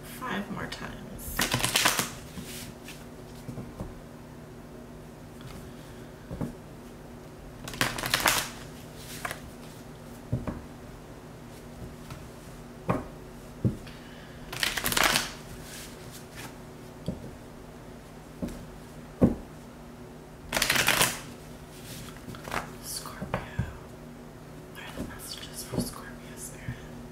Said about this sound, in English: Spirit's telling me to shuffle just five more times.